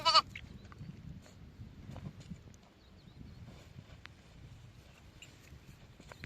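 A flock of sheep and lambs heads along to their fold outdoors. One short, sharp bleat comes at the start, followed by quiet shuffling and faint movement.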